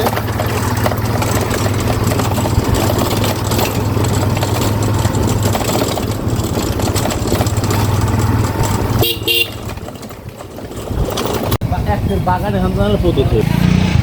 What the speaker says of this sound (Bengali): এই যে দেখতে পাচ্ছেন আমরা হোন্ডা দিয়ে যাচ্ছি, সামনে মামায় ড্রাইভিং করছে